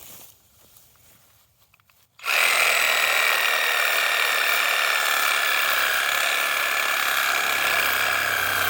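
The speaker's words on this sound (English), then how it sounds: "Next I tried a battery operated sawzall" A battery-operated reciprocating saw cutting into a manzanita shrub starts abruptly after a quiet moment and then runs as a loud, steady, buzzing whine, close up with no pauses.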